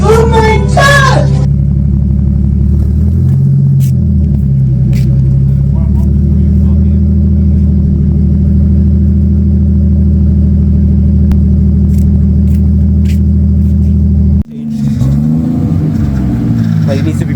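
Nissan Skyline R33 with a JDM HKS exhaust idling and revving, a loud steady engine rumble that swells briefly, with excited voices talking over it at the start and again near the end.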